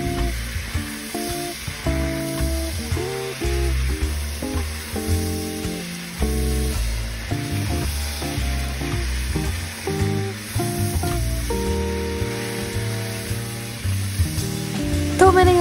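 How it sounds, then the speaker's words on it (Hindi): Chicken frying in a pan with onion and ginger-garlic paste, a continuous loud sizzle broken by repeated stirring and scraping clatter throughout, with no talking. "वो आप प्याज के साथ और लहसुन अदरक के पेस्ट के साथ भून ले"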